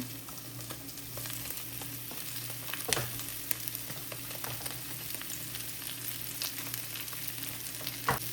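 Paneer, carrots and capsicum fry in a pan with a constant soft, crackling sizzle. A few sharper pops and clicks of stirring break through now and then, and no one speaks.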